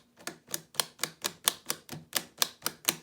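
A speedcube turns with a crisp, clicky feel at the layer tips, giving about a dozen evenly spaced sharp clicks close up, with no talking.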